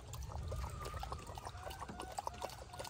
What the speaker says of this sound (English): So I'm gonna get the rest of that water out of here.